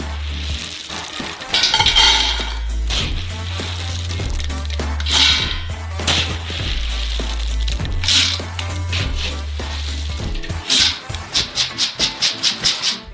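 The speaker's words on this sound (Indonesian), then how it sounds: "Dan kita mengisi kuali dengan kacang mentah berikutnya. Dan goreng juga." Raw peanuts being stirred as they fry in a large wok, part of a big 50 kg batch: loud sizzling with repeated scraping and clattering strokes of the stirrer, ending in a quick run of rhythmic scrapes.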